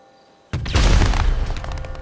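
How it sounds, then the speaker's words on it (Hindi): After a quiet moment a sudden heavy boom bursts out from a fireworks rocket launcher in GTA Online, followed by a rumbling, crackling wash of explosion noise that stays loud to the end. "ये क्या आतिशबाजियाँ छोड़ रहा है नीचे खड़े होकर के"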